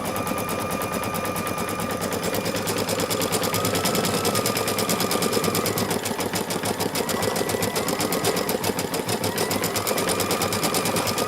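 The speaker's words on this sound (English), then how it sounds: "It's stitching out the bow." An embroidery machine stitches a bow design onto pink faux fur, a loud, fast, continuous mechanical rattle of needle strokes running steadily throughout with no pauses.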